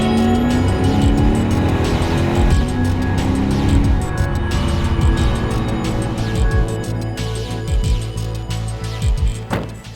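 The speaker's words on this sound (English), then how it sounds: "it only masks the wonderful gurgle of the V8." A 2016 Lexus GS F sport sedan's V8 engine gurgles and drones steadily and loudly throughout, with rising and falling engine tones and no talking.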